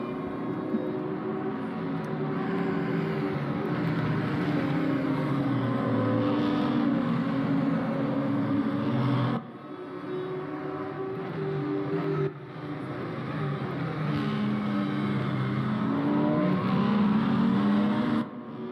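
BMW 235i race cars at Brands Hatch give a sustained, buzzing engine drone that rises and falls as they pass through the corners. The sound runs continuously at moderate loudness, with brief cuts and no voices.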